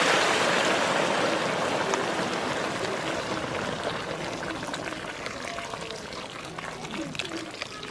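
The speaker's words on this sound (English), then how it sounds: "Now I'm going to add hot water." Hot water pours steadily into a pan of fried snail and potatoes, a loud broadband rush at first that gradually softens and thins over several seconds.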